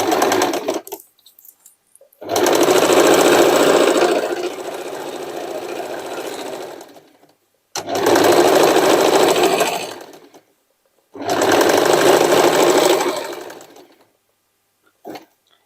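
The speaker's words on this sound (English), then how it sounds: "Straight stitching, the widest straight stitching you have." A sewing machine runs a wide straight stitch through denim in three long steady bursts separated by short pauses, loud and close, with no one speaking.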